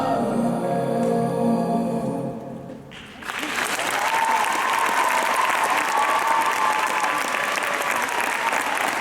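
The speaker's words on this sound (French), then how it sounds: "Je crois qu'on peut applaudir très très fort." Audience at a figure skating gala in Thiais, France, breaks into loud, sustained applause that swells after a brief lull and fills the hall with dense, continuous clapping and crowd noise.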